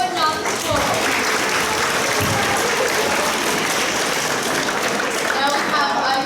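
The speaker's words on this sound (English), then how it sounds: "Applaud the poet, not the score" An audience at a grade 9/10 spoken word poetry event applauds a poet, a dense continuous wash of clapping and crowd noise lasting throughout, with voices mixed in.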